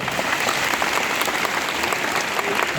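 Schoolchildren clap for themselves at a school earthquake mock drill, a dense, steady burst of many hands applauding together throughout, loud and close.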